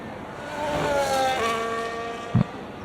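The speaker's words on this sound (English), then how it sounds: "definitely the engine sound in the replay sound much better" The Williams FW47 Formula 1 car's engine sounds in a replay in the F1 25 racing game, a high-pitched revving whine rising and shifting through gears, with a brief low thump near the end.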